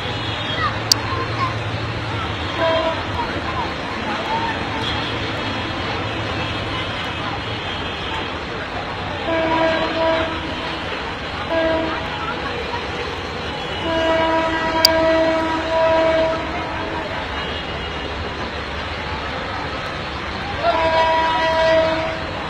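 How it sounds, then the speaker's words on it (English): A passenger train in India, with a steady rumble of railcars and a few horn-like tonal blasts rising over a busy, crowded background and some talking. "This is a train."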